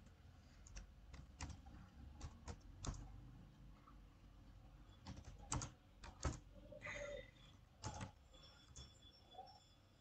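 Text being typed on a computer keyboard, a quiet run of sharp key clicks in irregular bursts with short pauses, no talking.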